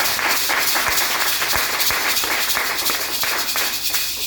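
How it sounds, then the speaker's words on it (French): A church congregation claps and cheers to welcome guests, broad steady applause filling the room throughout with sharp individual claps popping out of the wash. "Est-ce que vous pouvez les recevoir en acclamant très fort Jésus?"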